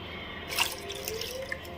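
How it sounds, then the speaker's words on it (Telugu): Water splashes from a bowl into a cornflour halwa mixture, a short bright pour with trickling and dripping that tapers off, close and clear with no voices. "ఇలా ఉండలు లేకుండా కలుపుకున్న తర్వాత ఇందులోకి మరొక బౌల్ వాటర్ యాడ్ చేద్దాము."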